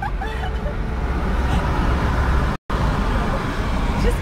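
A just-repaired car drives along a road in Mersin, Turkey, with a steady, loud rumble of engine and tire noise, briefly cutting out, as people talk inside.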